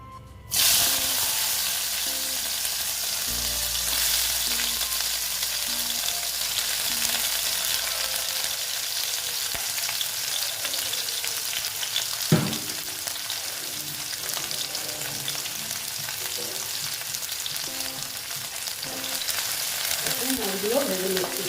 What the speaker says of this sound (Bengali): তেলটা গরম হয়ে গেছে এইবার আমি মাছগুলো ভেজে নেবো